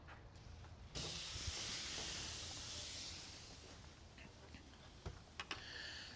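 A tomahawk steak coated in Montreal steak seasoning lands on a hot charcoal grill and bursts into a loud, steady broadband sizzle that slowly eases, with a few faint ticks and pops toward the end.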